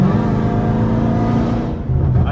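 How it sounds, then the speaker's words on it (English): Catless exhaust on a Chrysler rumbles in a steady, loud low drone near at hand, dipping briefly toward the end before swelling again. "I love the sound of this catless cat."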